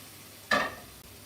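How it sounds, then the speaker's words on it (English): Stew meat browning in a pan gives one brief loud sizzling burst, a stir or toss lasting about a quarter second, then it fades back to a quiet background hiss. "Right, so now we've browned that off."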